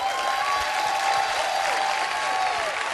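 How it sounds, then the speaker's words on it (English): A church congregation applauding, a dense, steady wash of many hands clapping at even loudness throughout, with a few faint voices mixed into the crowd. "somebody should have clapped their hands"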